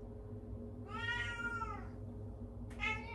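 A domestic cat meows twice indoors, a drawn-out wavering cry followed by a shorter, sharper one, both clear over a low household hum.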